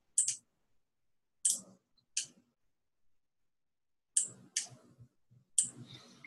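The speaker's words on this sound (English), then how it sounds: "I was actually just typing." Computer keyboard keys tapped during an online branding workshop call, heard as a few sparse bursts of quiet, close clicks separated by silence, with no talking.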